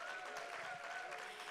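Steady audience applause from a crowd at a live storytelling show, a dense continuous clatter of clapping at moderate level with no talk over it.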